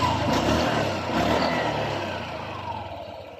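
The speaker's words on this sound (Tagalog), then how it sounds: "Pandarin natin ang kanyang motor para marinig natin ang final tunog ng kanyang makina." A Honda Click 125 scooter engine, freshly repaired with a new slider piece, runs steadily at close range, a continuous mid-pitched motor hum that eases slightly toward the end with no talk over it.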